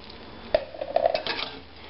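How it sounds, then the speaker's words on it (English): Hamburger soup with vegetables being stirred in a pot, with a few short metallic clinks and scrapes of a utensil against the pot and a soft liquid slosh, close by and without talk. "Give that a stir."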